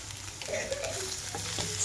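Cauliflower pieces fry in a pan for a cauliflower fry with masala powder, giving a steady soft sizzle with light stirring scrapes and occasional clicks, close and fairly quiet, with no talking.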